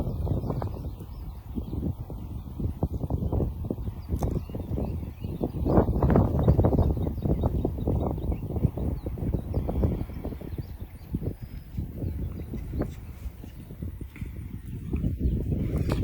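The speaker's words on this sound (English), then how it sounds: "This is a super nice little 4-year-old coming 5, and he is a Clydesdale cross." Hooves of a four-year-old Clydesdale cross horse clip-clop in a steady walking rhythm, fairly close and clear, with faint birdsong in the background and no talking.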